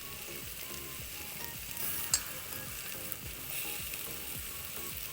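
Vegetables with salt sizzle quietly in a pan for pulao, a faint steady frying hiss broken by soft scraping stirs and one sharp clink.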